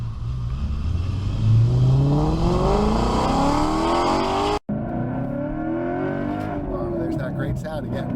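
An Audi RS4 Wagon engine revs hard through rising acceleration sweeps, heard loud from inside the car. There is a brief cut, then another climbing pull, with some rushing wind noise.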